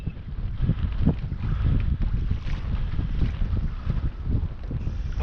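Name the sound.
boat outboard motor running in wind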